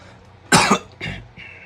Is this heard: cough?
yes